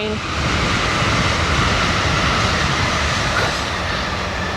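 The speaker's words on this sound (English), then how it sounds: "Train." A passing train rumbles as a dense, steady roar with faint clickety-clack, heard outdoors in a park during a yoga class, constant and fairly loud throughout with no voices.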